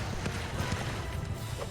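Horse hooves clip-clopping in the medieval battle game Mount and Blade II: Bannerlord, a steady patter of soft thuds under a continuous din of battle noise, fairly faint and brief.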